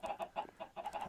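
Feeder chickens in the VintageCraft Minecraft modpack cluck in a quick, steady run of short calls, soft and slightly distant, with no talking.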